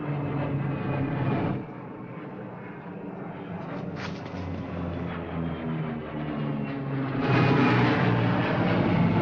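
A 1942 film sound effect of a propeller airplane passing overhead gives a steady, loud engine drone that dips briefly and then swells louder again toward the end, heard alone with no voices.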